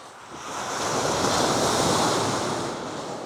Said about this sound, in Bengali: কি সুন্দর বড় বড় ঢেউ অসাধারণ নীল জলরাশি এখানে আসলে পড়ছে